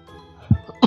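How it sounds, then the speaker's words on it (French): Two short, sharp coughs close to the microphone, a brief pause between them, against otherwise quiet background. "Je tousse."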